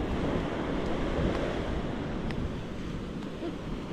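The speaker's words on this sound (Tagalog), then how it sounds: "At ng alon." Ocean waves during a habagat monsoon roll in as a continuous broad roar, close and steady, with wind buffeting the microphone throughout.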